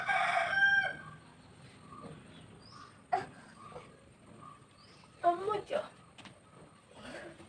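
Chickens during feeding: a rooster crows loudly at the start, then scattered clucks and squawks follow at moderate distance, with people talking over parts of it.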